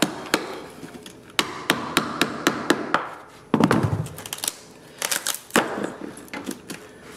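A Dremel tool chisels away material a little at a time, giving a string of sharp, close knocks and taps in an irregular rhythm with a brief scraping burst partway through.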